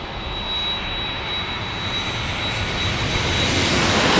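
An American Airlines jet arriving at San Diego airport, its engine roar steady and broadband, building slightly louder over a few seconds with no talk.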